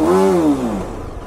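A BMW G310RR motorcycle engine just after a cold start gives a short, loud close rev whose pitch rises briefly and then falls away into a low idle.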